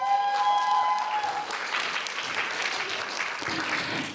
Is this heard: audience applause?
yes